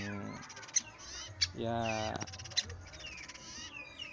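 Young fruit-eating woodpecker chicks, a male and a female, give harsh squawking calls close by, mixed with sharp clicks, while someone speaks briefly over them.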